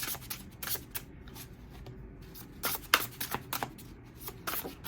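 Tarot cards being shuffled by hand, quiet rapid riffling and soft flicks in short bursts, close and faint with no talking over them.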